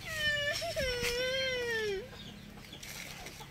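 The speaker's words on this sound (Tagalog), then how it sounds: "Mga manok oh." A chicken lets out a long, drawn-out squawk up close, followed by fainter clucking and background rustle.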